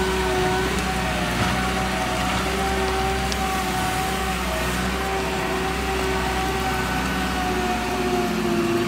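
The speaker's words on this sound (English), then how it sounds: "we'll park JCB up back in the shade again?" A JCB digger's engine runs steadily with a constant low drone and a faint whine, loud and unbroken as the machine is driven to park.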